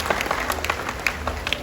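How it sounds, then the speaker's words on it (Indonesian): Audience applause during a speech by the West Java governor at the 113th Muhammadiyah anniversary event in Bandung, a steady patter of many hands clapping at moderate loudness for under two seconds. "Tepuk tangan ya."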